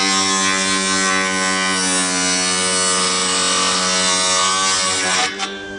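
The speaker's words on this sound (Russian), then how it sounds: "Видите, пилит нормально." A table circular saw cutting a slightly damp wooden block whines steadily at high pitch, running continuously for several seconds before the tone drops briefly near the end.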